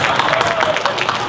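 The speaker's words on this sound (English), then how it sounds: "Yes, applaud my answer." Crowd at a Disney theme park voices panel at an expo applauding, brief dense clapping mixed with murmuring voices, close and loud.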